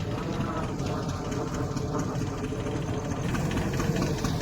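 Steady mechanical whirring and rattling of a threshing machine running continuously, loud and close, with a low engine drone underneath.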